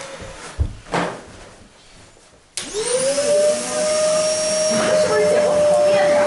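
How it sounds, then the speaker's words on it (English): Following a few knocks and bumps, a Zero G F3D floating vacuum cleaner switches on and keeps running with a loud, steady high-pitched whine and rushing airflow, close by, with a slight shift in tone partway through. "Let's vacuum real quick."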